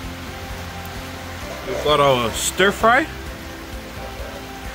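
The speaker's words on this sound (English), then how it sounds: "it's raining now" Outdoor rain on a Samoan farm falls as a steady, even hiss throughout, with a person speaking briefly near the middle over the rainfall.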